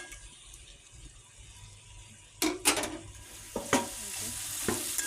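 Curry in a pot, kamaler dana tarkari, being stirred a few times, with scraping utensil strokes clustered in the second half over a quiet low background hum.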